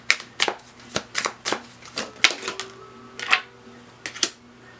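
Tarot cards are pulled and snapped from a deck in quick, crisp bursts, about a dozen sharp shuffling flicks close by, with brief pauses between them and no talk.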